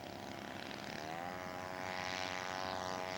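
A propeller-driven scale model airplane makes a flyby at an aircraft show, its steady droning engine rising and shifting in pitch as it passes, moderately distant with no talking.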